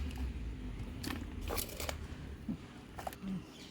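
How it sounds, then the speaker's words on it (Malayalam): Soil is poured and pressed into a pot while repotting a curry leaf plant, giving faint close crunches and crackles in short scattered bursts over a low background hum. "ഇനി ഇതിലോട്ട് മണ്ണ് ഫില്ല് ചെയ്യാണ്"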